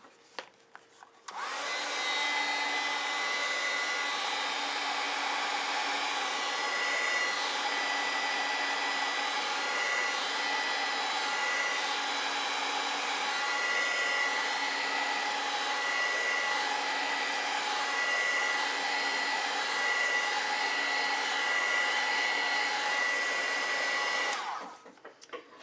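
Hair dryer blowing on acrylic paint, switching on with a click and running as a loud steady whooshing drone for over twenty seconds before cutting off, no talk.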